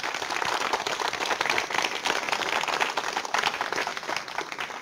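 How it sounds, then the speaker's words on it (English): An astronomy webcast audience applauds steadily, a dense patter of clapping at moderate volume that holds without a break for a few seconds. "Give the viewers around the world a round of applause"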